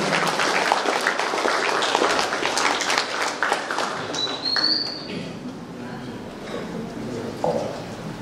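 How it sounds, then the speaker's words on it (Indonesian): Audience applause in a hall for a moderator at an Indonesian national-unity discussion event, a dense patter of clapping lasting several seconds with crowd noise, fading slightly before a short renewed burst. "beri tepuk tangan yang meriah kepada moderator kita, Bapak Hakim Syaratun."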